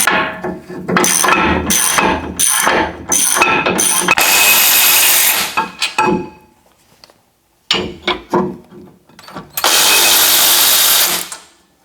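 An 18 mm socket wrench ratchets in quick bursts removing rear brake caliper bracket bolts on a Chevrolet Colorado or GMC Canyon, then longer stretches of loud mechanical whirring, with pauses and clanks between efforts.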